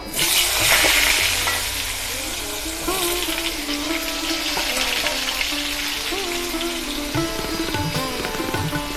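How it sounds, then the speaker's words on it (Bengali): Potatoes drop into hot oil and fry, a loud burst of hissing that settles into a steady, bubbling sizzle, with quiet background clatter and hum. "আলুটা আমি ভেজে নেব।"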